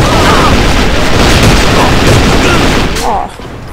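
Gunfire in the video game A.V.A., a dense run of loud booming shots and bursts with little pause, dropping off abruptly near the end.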